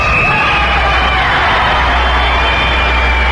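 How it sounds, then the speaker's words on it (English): Live club audience at Birdland cheering and shouting during a performance, a dense steady roar of crowd noise with whoops and yells throughout, fairly loud and continuous. "You can hear him cheering in the background there."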